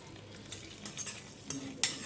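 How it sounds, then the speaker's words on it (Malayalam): Carrot macaroni payasam with cashews and fried ghee being stirred in a pot, giving soft scraping strokes and a few sharper spoon clinks at a steady stirring pace, close by with a faint sizzle underneath and no talking. "ഇനി നമുക്കിത് നന്നായിട്ടൊന്ന് ഇളക്കി കൊടുക്കാം."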